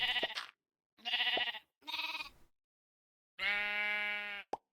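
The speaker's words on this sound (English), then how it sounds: "I have to kill this pink sheep." Sheep bleating in the Minecraft video game, four separate synthetic bleats with short silences between them, the last longest and loudest, ending in a brief click, with no talk.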